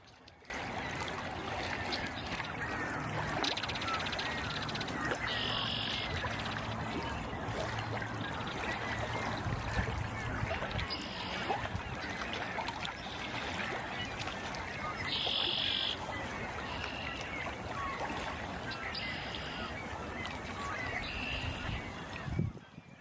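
Outdoor ambience at Irondequoit Bay: a steady wash of water and rustling fills the background while ducks call intermittently in short bursts, moderately close and fairly loud.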